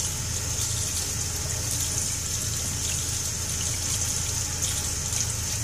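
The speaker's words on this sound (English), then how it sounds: "putting water on the razor blade. I'm trying to wash it well" Water runs continuously from a tap over a razor blade being washed, a steady, close splashing stream with no pauses or voices.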